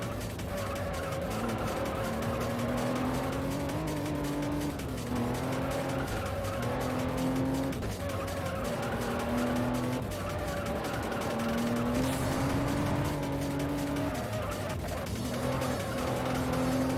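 In the Juiced racing video game, a Supra's engine drones loudly and steadily while its tires squeal and skid through a near spin. The sound is continuous and close, with no talking.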